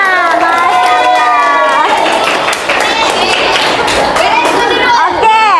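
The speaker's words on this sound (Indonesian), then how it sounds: "Sekarang tepuk tangan untuk diri kita semua." A group of people clapping for themselves after a class activity, loud dense clapping with cheering and chatter throughout, voices rising over the applause.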